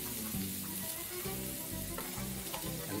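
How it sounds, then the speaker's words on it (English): Chorizo sausage pieces dropped into a hot pan sizzle loudly and continuously, with crackling spits and a few soft knocks as they settle, close up and with no voices. "And proceed to add your sausage into your pan."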